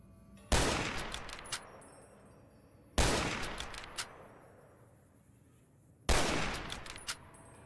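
Hunting rifle fired in Fallout: New Vegas: three loud, separate gunshots spaced a few seconds apart, each followed by a long echoing decay and a faint metallic bolt-action click, with no talking.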